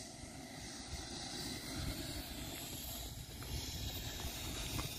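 A Pichler L39 Albatros model jet on its first flight produces a continuous whooshing turbine roar that stays steady and fairly distant, mixed with wind noise outdoors.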